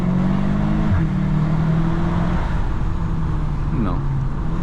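A 2022 VW Arteon R Shooting Brake with 320 hp revs hard, and its exhaust pops and bangs. Loud, close engine tones rise and fall, with a sharp upward sweep near the end, under someone talking.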